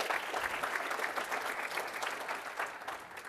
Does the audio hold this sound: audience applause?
yes